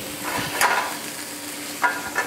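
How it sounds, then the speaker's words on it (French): Pan deglazed with port for a lamb sauce, a steady close sizzle with a few brief sharper bursts of spitting and stirring. "Alors là, on déglace au porto."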